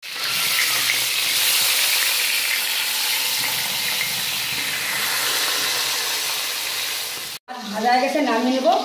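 Fish fries in mustard oil in a wok with a loud, sustained sizzle up close; near the end it cuts out sharply and gives way to a burst of crackling and scraping.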